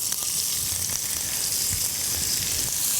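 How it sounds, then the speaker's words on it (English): Crushed spices sautéing in hot ghee for paneer kaliya, a bright, constant crackling sizzle that holds steady without a break, close and unaccompanied by speech. "Now we need to add this crushed spices to the ghee. We'll saute it."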